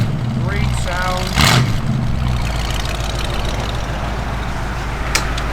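A 1929 Ford Woody Wagon engine idles with a steady low throb, then rises in a short rev before settling back to idle; a voice speaks briefly early on.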